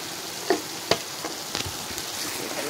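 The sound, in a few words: spices and garam masala frying in oil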